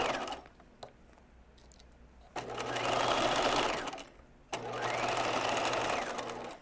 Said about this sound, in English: I'm going to back stitch there